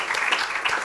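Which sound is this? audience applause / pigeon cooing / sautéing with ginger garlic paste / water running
audience applause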